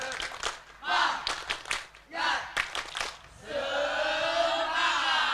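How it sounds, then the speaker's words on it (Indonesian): A group of children at an Islamic school quiz contest claps a rhythmic spirit clap in quick bursts with pauses between them, then breaks into a sustained loud chant. The crowd is close and lively. "Coba kasih tepuk semangat dulu."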